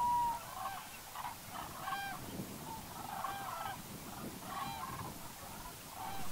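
Common cranes trumpet at Pulken in spring, several repeated honking calls rising over a broad outdoor ambience at moderate distance, with no voices.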